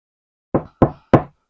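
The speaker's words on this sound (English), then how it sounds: "We'll knock on wood." Three sharp knocks on a wooden surface, evenly spaced about a quarter second apart, close and clear against silence.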